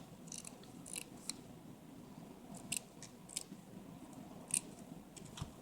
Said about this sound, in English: I'm going to cut out just a piece of this in a circle.